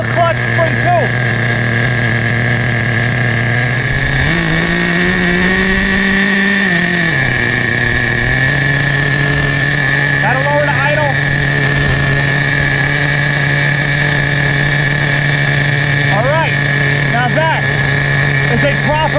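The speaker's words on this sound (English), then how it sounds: "The best idle ever. 22-year-old Duratrax motor." A 22-year-old Duratrax nitro engine in a vintage Duratrax Nitro Quake RC truck idling steadily, a loud, close buzzing drone that briefly rises in pitch and settles back, running continuously throughout.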